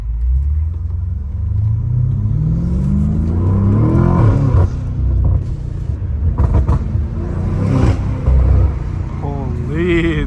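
A turbocharged BMW M5 Competition engine revs up hard in the rain with rising pitch and a deep rumble, loud and close, with voices mixed in.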